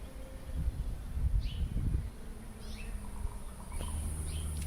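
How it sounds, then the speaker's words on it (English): A bee buzzes low in a forest while birds chirp and call intermittently in the background, the buzzing rising and fading as it moves nearby and then passes. "I hear a bee buzzing."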